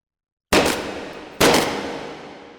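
Two sharp, loud rifle gunshots in the VR shooter H3VR, each with a long decaying echo, spaced about a second apart after a brief silence.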